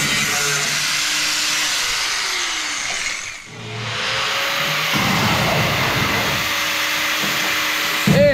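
An angle grinder works on a welded body panel of a Volkswagen TL under restoration, a loud continuous high whine that dips briefly, then resumes with heavier grinding against the metal.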